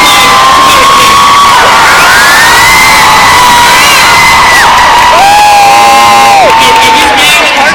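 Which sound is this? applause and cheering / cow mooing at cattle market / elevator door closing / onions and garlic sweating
applause and cheering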